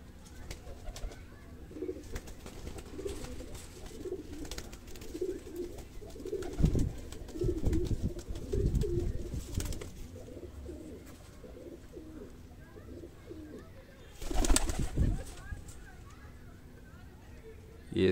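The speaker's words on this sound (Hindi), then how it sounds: "एक ये कबूतर है जी" Soft cooing of high-flyer pigeons close by in a low, rolling rhythm, mixed with steady background noise, a few louder bumps and some talking.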